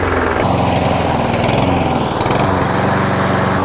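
Rough-running lawn mower engine, close and loud, droning steadily while its pitch surges and sags unevenly over a few seconds, with no voices.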